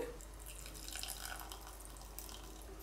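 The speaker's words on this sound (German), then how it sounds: "Und genau so viel jetzt geben wir auch Wasser. Das heißt 87 Gramm." Water is poured into a pot sitting on a kitchen scale, a soft, steady trickle and splash heard close but quietly, with no talking over it.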